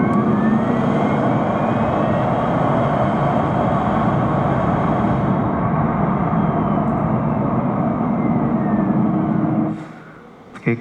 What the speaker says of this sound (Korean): 다음 디올류 넥소의 가속 시 소음입니다.